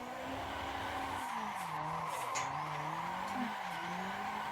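Race car drifting in the Assetto Corsa racing game, a steady engine drone with wavering pitch under continuous tire squeal and skidding through a sustained slide, loud and close with no talk.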